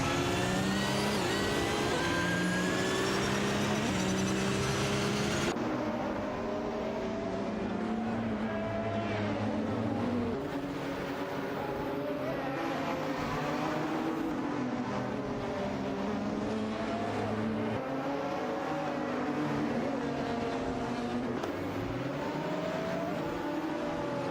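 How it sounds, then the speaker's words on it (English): Race cars roaring through an AI racing video game, with layered engine whines rising and falling continuously as cars duel down a straight, loud and unbroken for the whole stretch. "This duel continues as they head down the straight, with Lux clearly looking for an opening to"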